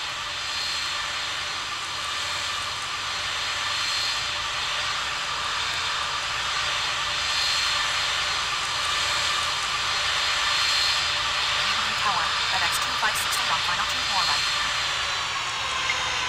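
A Boeing 757-200F jet in the Tower Simulator 3 airport game at Cleveland gives a steady, continuous engine roar with a hissy high whine, holding level throughout with a slight change near the end.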